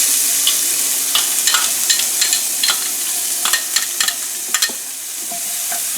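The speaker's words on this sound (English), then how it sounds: "We'll put our onions in here now." Onions sizzle in a pan coated with browned fond from pork chops, a steady frying hiss broken by frequent scraping stir strokes, close and alone.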